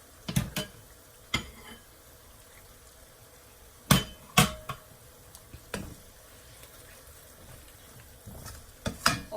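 Onion and garlic fry in oil, a low sizzle broken by repeated sharp knocks and scrapes of a utensil against the pan as it is stirred back and forth.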